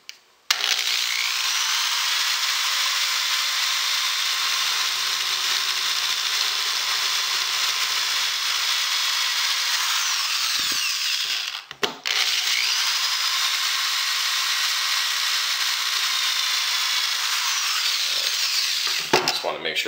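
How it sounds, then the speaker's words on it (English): Power drill boring holes into a brittle acrylic bracket for a float switch, a steady high-pitched whine running nearly continuously with a brief stop partway through, close and loud. "All we need to do now is drill the holes for the float switch and the suction cup."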